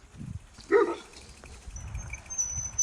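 A dog gives a single short bark at a roadside during winter cycling in snowy Europe, with faint rustling and traffic hum around it and no talking.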